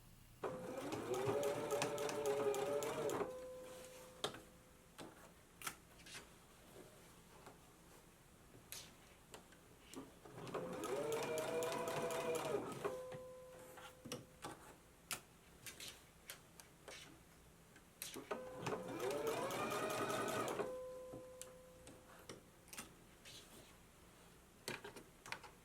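A sewing machine stitches a collar band onto a McCall's 7330 jumpsuit in three separate bursts of a few seconds each, with quiet pauses between them, close and fairly loud with a steady mechanical whir.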